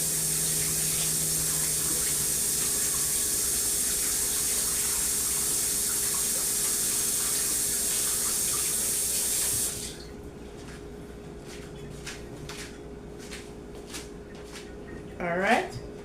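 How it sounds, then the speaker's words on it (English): Running water from a kitchen sink tap as hands are washed, a steady close hiss and splash for several seconds that cuts off abruptly, followed by a quieter room with small clicks and a brief rising squeak. "I'm going to wash my hands."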